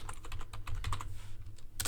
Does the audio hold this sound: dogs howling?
no